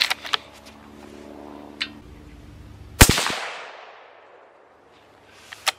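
A single sharp, loud .223 rifle shot from a Remington 700 ADL cracks nearby and then echoes away outdoors. Quieter clicks and handling noises come before and after it.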